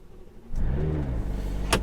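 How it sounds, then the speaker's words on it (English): A 2020 McLaren GT supercar engine starting and warming up: after a quiet moment it fires into a loud, steady idle that settles into a deep rumble, with a sharp click near the end. "Let's warm the car up a bit"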